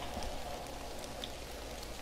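Steady rain falls in a horror video game, a soft continuous patter with scattered drops, fairly quiet and alone without speech.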